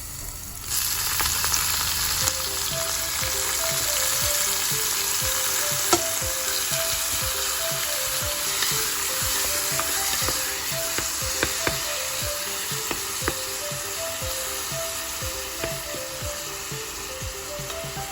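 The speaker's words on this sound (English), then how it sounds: "So now it's time to add the tomatoes." Tomatoes sizzle and fry steadily in a pan for an Indian mung dal, a continuous crackling hiss with scattered pops and faint stirring, no voices.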